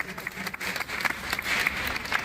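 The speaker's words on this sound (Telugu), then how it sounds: "ఒకసారి గట్టిగా చప్పట్లతో దేవుని మహిమపరుస్తున్నాం" A church congregation at a Marian shrine claps loudly in praise, a dense, even patter of many hands that swells slightly toward the end, heard alone without talk.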